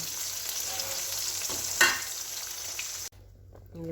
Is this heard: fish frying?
yes